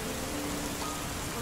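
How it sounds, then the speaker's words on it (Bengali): Heavy rain pours in a dense, unbroken hiss on a stormy night in an animated ghost story set at a zamindar's house, loud and alone with no voices. "বৃষ্টির যা দাপট"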